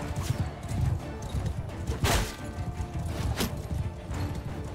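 Cavalry horses charge en masse in the Mount and Blade Bannerlord video game, a dense continuous rumble of hoofbeats with scattered clashes and impacts, loud and busy throughout with no talk.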